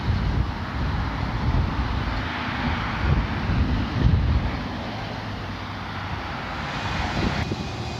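Aircraft engine noise at an airport near Key West, Florida, a steady broadband roar with wind buffeting the microphone, no talk.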